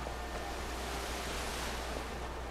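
Ocean surf on a rough, sandless shore, a steady broadband wash of breaking waves with wind rumble, continuous and fairly loud throughout with no voices.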